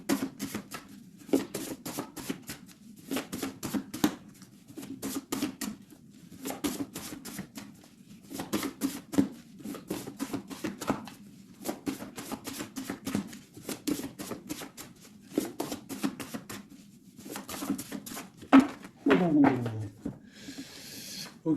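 Tarot cards being cut and shuffled by hand at close range: rapid papery riffles and taps in repeated bursts separated by short pauses, with a quiet voice occasionally under them.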